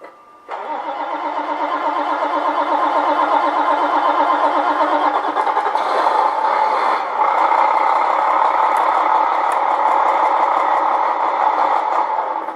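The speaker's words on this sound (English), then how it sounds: "engine sound starts by the switch." A Beier SFR-1 sound module in a Tamiya 1/14 Globe Liner RC truck plays a simulated diesel engine start, then a steady, loud rumbling idle that continues evenly throughout.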